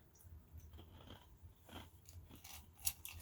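Ice is chewed close to the mouth with soft, irregular crunching and crackling bites, faint overall and heard alone without talking.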